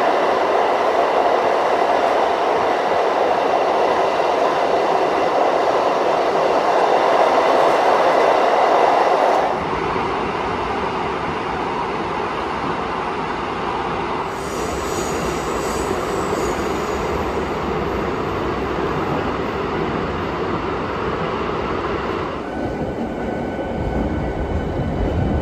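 Electric train of Kashmir's first electric service running from Sangaldan railway station, a steady loud rumble of rail travel that shifts in tone midway, continuing throughout with no voices.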